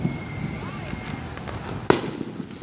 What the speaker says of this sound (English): When the firework doesn't want to comply with the other one.